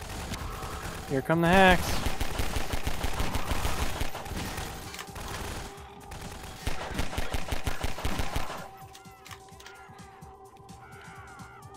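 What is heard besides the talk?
gunfire in Garry's Mod (Gmod) prison break video game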